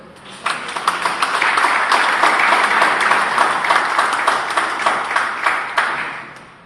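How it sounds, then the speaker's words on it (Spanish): A church congregation breaks into applause during a Spanish-language sermon, a sustained roomful of clapping that swells quickly and holds for several seconds with crisp claps ringing through the hall. "¿Se podría dar un aplauso al Señor por eso?"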